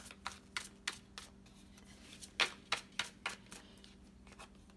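Tarot cards being shuffled in a quiet room: a series of crisp, riffling card snaps, about a dozen brief bursts with uneven spacing, close and fairly soft, with no talking.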